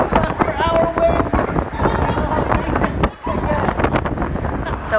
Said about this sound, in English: we're gonna go on the 7, the 50 to 61 kilometers per hour wind